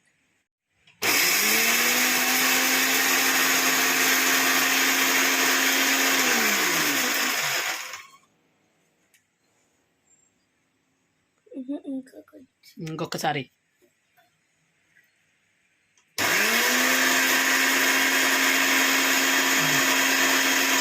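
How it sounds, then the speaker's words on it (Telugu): Mixer grinder powdering cooled puffed corn kernels for a sweet flour: two long, loud whirring runs of the motor with a quiet pause between them, where brief talk and some handling clatter are heard. "ఇప్పుడు మిక్సీ వేసేయి."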